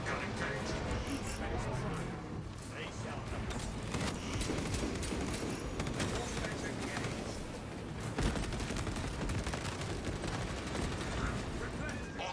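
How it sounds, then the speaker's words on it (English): A servo gun in the Space Marine 2 video game fires in rapid, continuous bursts, a dense rattling fusillade running throughout over a busy background mix. "Servo gun engaged."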